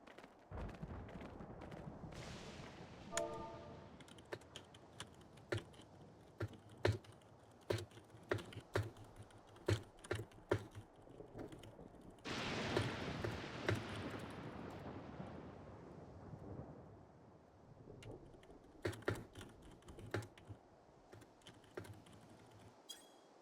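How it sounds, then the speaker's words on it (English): Loud computer keyboard typing in irregular bursts of sharp clicks and clacks, close to the microphone, with pauses between flurries and a dense stretch of rapid keystrokes midway, heard over a faint background of game sound. "Also, I don't know how loud this keyboard is."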